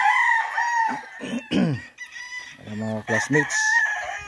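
Gamefarm stud roosters crow repeatedly, loud and close, with clucking and other fowl calls around them and brief talking mixed in.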